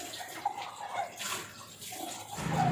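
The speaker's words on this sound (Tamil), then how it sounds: "அதனால் டீ குடிச்சிட்டு அப்போ அந்த பாத்திரத்தை கழுவிடணும்" Running water splashes into a kitchen sink while dishes are washed, a steady close hiss with small clinks, swelling louder near the end.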